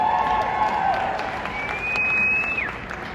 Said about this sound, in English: based on that applause